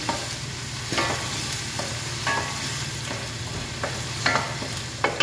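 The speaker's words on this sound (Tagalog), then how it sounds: "Haluin natin." Food sizzles steadily in a cooking pan as a utensil stirs and scrapes through it every second or so, close up, with no one talking.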